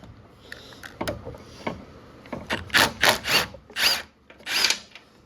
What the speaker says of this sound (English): I'm gonna pull the spark plug out. Half-inch socket. On this one, we're going to use a swivel, I think.